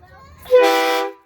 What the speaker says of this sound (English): whenever there's any issues, there's the air horn.